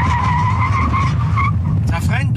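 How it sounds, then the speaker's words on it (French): A 2006 Mazda RX-8 GT brakes hard from 100 km/h with ABS working, a loud, close tire squeal and pulsing skid over road rumble, with someone talking throughout. "Ça freine droit et les freins ABS travaillent très, très bien."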